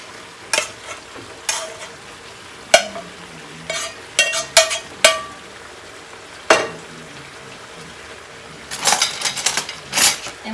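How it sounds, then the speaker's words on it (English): Broccoli goes into a pot of beef for beef and broccoli: scattered clinks and scrapes of a utensil against the pot, with brief bursts of sizzle and stirring. These come in irregular clusters, close up, with no speech. "I'm going to go ahead and add our broccoli"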